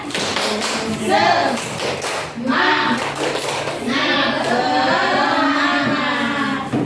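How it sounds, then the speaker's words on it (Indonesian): Classroom of Indonesian primary pupils doing a rhythmic spirit clap, the tepuk semangat, led by their teacher; bursts of patterned hand claps mixed with children's chanted voices, fairly close and lively. "kita tepuk semangat dulu ya biar tambah semangat untuk belajar."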